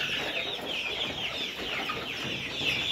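Layer hens clucking inside a poultry shed, a soft, steady murmur of many birds with overlapping clucks close by, no talk.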